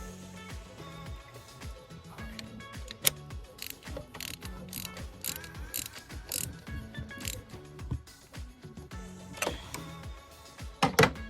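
Close, quiet ratcheting of a hand tool tightening bolts on a Ford Fiesta during an oil, filter and thermostat change, with repeated rapid clicking bursts and metallic mechanism noises in uneven rhythm.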